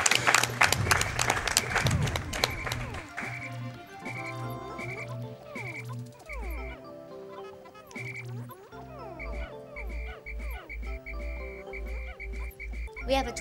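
Clapping from a live audience at a Pikmin speedrun marathon event bursts loudly at first, then thins into scattered claps mixed with game sounds and croaking effects.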